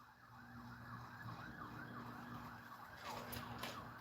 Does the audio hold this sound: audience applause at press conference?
no